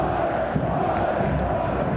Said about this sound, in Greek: Το καθιερωμένο όλε από τους παίκτες και την τεχνική ηγεσία της Ομόνοιας